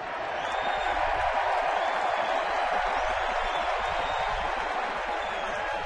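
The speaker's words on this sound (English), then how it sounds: "the obligatory derisive round of applause here in the Pacific Northwest" A baseball crowd in the Pacific Northwest gives a sustained, derisive round of applause, a steady wash of clapping and crowd noise heard from a distance.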